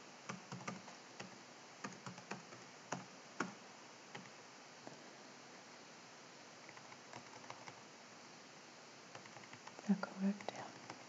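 Quiet, scattered clicks of a computer keyboard, typed in short irregular bursts under a soft background hiss, with faint murmuring voices near the end.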